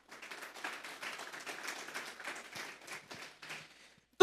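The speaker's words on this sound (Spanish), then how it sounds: "Vamos a darle un fuerte aplauso esta tarde al Señor." A church congregation applauding during a Spanish-language service: soft, even clapping from many hands, faint and somewhat distant, holding for several seconds before fading out.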